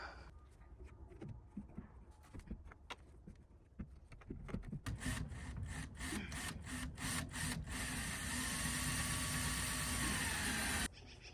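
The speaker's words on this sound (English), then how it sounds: "I'm gonna go get the window and screw it in" A window is screwed into a chicken coop frame: scattered knocks and clicks give way to a sustained motorized whir lasting several seconds that cuts off abruptly.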